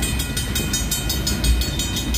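A freight train on the Portland and Western Railroad rumbles steadily past nearby, with a continuous low roar and faint rhythmic clicking of wheels on rail joints.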